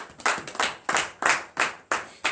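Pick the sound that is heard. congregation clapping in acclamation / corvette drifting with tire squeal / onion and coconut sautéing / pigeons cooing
congregation clapping in acclamation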